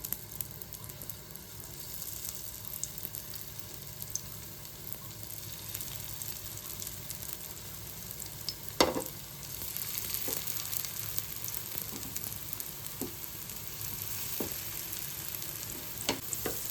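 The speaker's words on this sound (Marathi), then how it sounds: "तवा ठेवलाय गॅसवरती आणि 2-3 चमचे तेल घातले, अशी आपण टिक्की ठेवूया तेलामध्ये।" Soya chunk tikki fry in a few spoons of oil on a tawa over a medium gas flame, giving a steady close sizzle with occasional sharp pops and faint utensil clicks.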